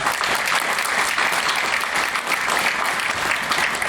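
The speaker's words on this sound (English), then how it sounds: "we give a round of applause" A live crowd at a community event on homelessness in Athens applauds steadily and loudly, a dense wash of many hands clapping throughout with no voices on top.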